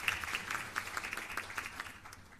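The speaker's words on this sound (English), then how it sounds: "I want to give the government and people of Jamaica a special round of applause this morning" Audience applause for the government and people of Jamaica at a Blue Justice regional launch event, a short burst of scattered clapping that is moderately faint and fades toward the end.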